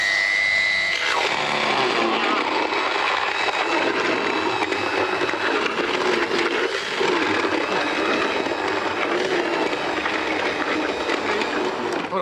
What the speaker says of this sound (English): you take your blender, it's like something out of a Chainsaw Massacre